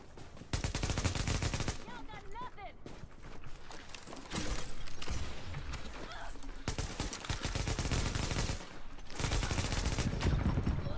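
Gunfire in The Division during a Times Square legendary mission: long sustained automatic bursts, loud and close, with short pauses between volleys and scattered in-game voices underneath.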